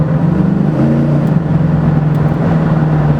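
1968 Chevrolet C10 pro-touring truck engine, loud close rumble with a short rise in pitch as the throttle is tapped, steady and alone with no talk.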